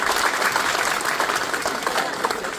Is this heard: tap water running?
no